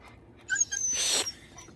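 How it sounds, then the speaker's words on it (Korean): A dog whines indoors, giving a brief high whimper followed by a breathy, noisy burst, close and fairly quiet against a low background hum. "또 찡찡대."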